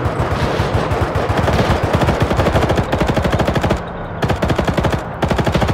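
Loud, close machine gun fire in a World War II video game, rapid bursts of evenly spaced shots running almost continuously, with a brief pause before firing resumes.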